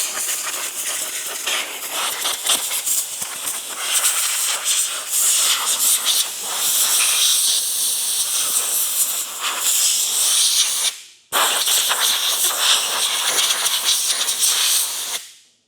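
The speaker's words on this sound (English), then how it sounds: "just use some compressed air and clean out in this groove" Compressed air blasting out the dashboard groove of a 1974 Camaro during interior restoration, a loud steady hiss held for about eleven seconds, a brief cut, then another burst, with no talking.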